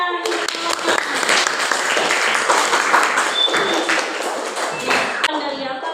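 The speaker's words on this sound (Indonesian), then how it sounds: "Iya, tepuk tangan" Classroom applause from students after a pupil reads aloud, a dense clatter of claps filling the room, with a teacher's voice speaking over parts of it.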